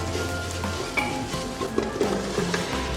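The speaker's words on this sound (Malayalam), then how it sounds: "അതിലോട്ട് ചിക്കൻ ഇട്ട് മസാലയെല്ലാം അതിലോട്ട് പിടിക്കുന്നതുവരെ ഒന്ന് ഇളക്കിക്കൊണ്ടിരിക്കുക" A spoon stirs chicken into onion, cashew and raisin biriyani masala in a pan, with soft scraping and light sizzling as pieces are turned, close and steady with a few clinks, no talk.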